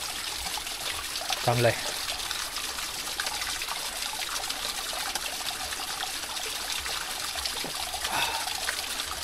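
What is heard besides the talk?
flowing stream water trickling on trek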